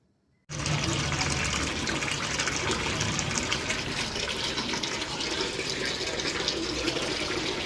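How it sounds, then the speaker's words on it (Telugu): Municipal drinking water gushes from a tap as residents of Janapriya Mahanagar in Meerpet collect it, starting abruptly and then running as a loud, steady rushing stream without pause. "డ్రింకింగ్ వాటర్ వస్తున్నాయి అందరూ పట్టుకుంటున్నారు"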